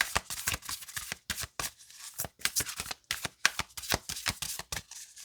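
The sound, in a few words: oracle cards being shuffled for a reading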